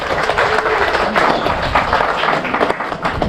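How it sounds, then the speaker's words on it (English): An outdoor crowd at an alligator show on a swamp tour breaks into loud, dense clapping that carries on through the whole stretch, with scattered sharper claps standing out from the mass. "big round of applause for Beauty"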